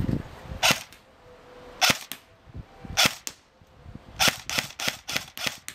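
Airsoft BI-3381M M4 rifle test firing: sharp, close snapping shots in spaced single bursts, ending with a faster cluster of repeated shots.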